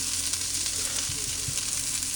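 Onions fry in an All-Clad hard anodized nonstick fry pan with a steady, close hiss and crackle, continuous and even with no talking.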